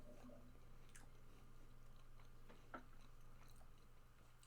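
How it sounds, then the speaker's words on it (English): Someone eating close to a microphone, chewing loudly with soft, irregular crunching and squishing bites over a steady low hum, with no talking. "If me chewing was annoying, I apologize. I'm a loud chewer."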